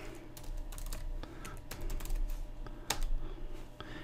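Sign-in details are typed on a computer keyboard to log into OneDrive from Microsoft Word 2016: a close, steady run of irregular plastic key clicks with a few sharper taps, and no voices.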